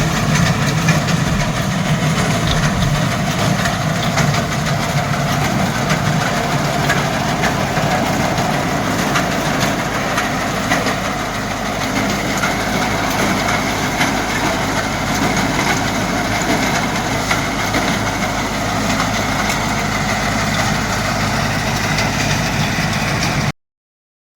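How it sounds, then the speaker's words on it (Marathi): A soybean harvesting machine's engine runs steadily and loudly, a continuous low rumble with mechanical clatter that holds unchanged throughout. "ही सोयाबीन सोगण्याची मशीन आहे"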